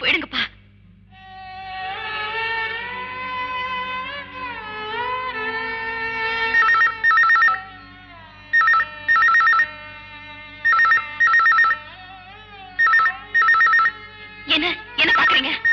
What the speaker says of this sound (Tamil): டெலிபோன் பண்ணி அடிக்கிற சத்தம் கேக்குதே